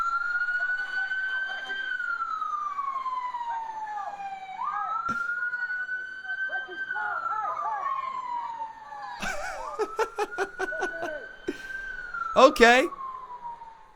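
A wailing emergency siren rises and falls in long sweeps, the ambulance tied to a WWE Raw live event, mixed with crowd or commentary noise and a brief spoken word near the end.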